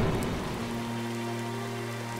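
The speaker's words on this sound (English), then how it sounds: "It rains very frequently here." Steady rain falls on a surface, a dense, continuous hiss of drops that stays even and fairly close throughout, with no voices.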